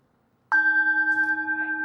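A yoga class timer bell rings once with a clean, bright strike that then sustains as a steady, gently pulsing tone for well over a second, close and alone in quiet.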